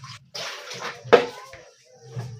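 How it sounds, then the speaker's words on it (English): Water poured into a homemade Coca-Cola laundry bar soap mixture heating on a gas stove, a few short splashing pours with a louder splash in the middle and brief quiet gaps. "I need to add another little water"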